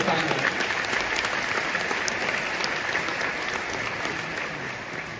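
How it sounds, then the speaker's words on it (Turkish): A studio audience at a Turkish television entertainment show bursts into sustained, dense applause that fades only slightly toward the end. "Alkışlıyoruz"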